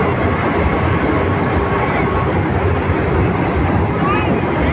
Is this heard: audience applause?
no